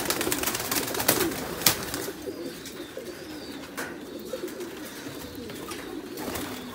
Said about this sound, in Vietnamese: chim bồ câu titan thái siêu thịt này, nhìn khủng không anh em